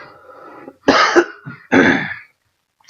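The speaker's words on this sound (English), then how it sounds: "I gotta cough really quick." A man coughs twice in close, loud bursts with a brief rasp between them, then quiet follows.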